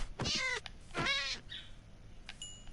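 A Minecraft cat meows twice in quick succession, close and clear, followed by a few faint high chirps.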